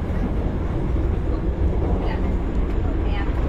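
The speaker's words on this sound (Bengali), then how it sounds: "আর এর মধ্যে দিয়ে চলেছে আমাদের টয় ট্রেন।" The Darjeeling toy train runs through dense jungle on the Siliguri to Rongtong route, a steady rumbling rattle heard from on board, with a voice talking over it.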